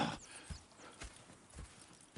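Horses in Red Dead Redemption 2 clip-clop at a walk, with four soft, evenly spaced hoof thuds that sound quiet and slightly distant against a hushed game background.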